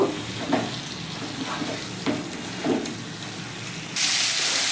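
Gathi kochu (taro) and potato tossed in spiced oil in a pan for a vegetarian curry, giving a steady close sizzle broken by periodic scraping stirs, the frying hiss swelling louder near the end.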